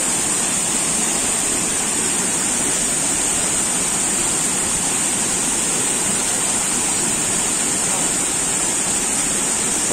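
A large waterfall on a swollen river pours down with heavy rushing water, a steady, loud, broadband roar that fills the whole stretch without a break and with no voices.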